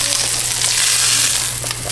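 Food dropped into a pan of cooked bacon sizzles steadily and loudly up close, with faint stirring clicks over the frying.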